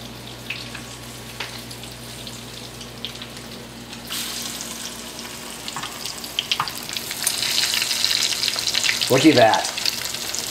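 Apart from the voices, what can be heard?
chicken nuggets frying and sizzling in a pan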